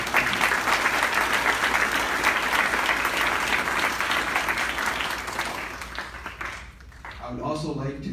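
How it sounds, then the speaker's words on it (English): Guests at the 2018 AAYSP scholarship gala give a strong round of applause, steady and full for several seconds, then fading as a voice begins to speak near the end. "I wanted to give a round of applause for all the members of AAYSP"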